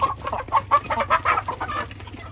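An older backyard hen in a hard molt clucks in a steady run of short, close, fairly loud calls with no talking.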